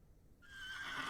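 Horse neighing in the video game Excavation of Hob's Barrow, a single short whinny that rises out of quiet and stays near and clear.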